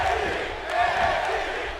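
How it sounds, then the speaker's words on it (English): Wrestling crowd in an arena chanting a name in unison, a loud, sustained mass of voices with a rhythmic swell. "Hear the crowd chanting, Jerry, Jerry"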